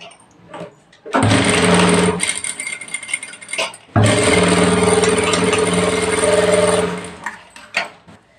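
A sewing machine stitches fabric for a sleeve (hand) joint, running in two loud, close bursts of rapid mechanical whirring separated by a short pause, with quieter handling noises before and after.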